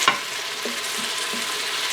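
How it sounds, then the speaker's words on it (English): Kung pao chicken simmering in an Instant Pot gives off a steady close sizzle with light stirring clinks at the start. "We're going to let this simmer a little bit."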